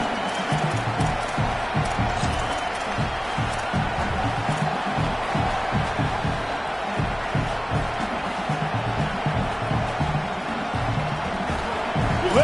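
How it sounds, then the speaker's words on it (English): A stadium crowd at a football game roars in a steady, distant wash of cheering noise as the home fans try to rattle the opposing offense. "Listen to this crowd just shaking the girders of this place, trying to help their defense."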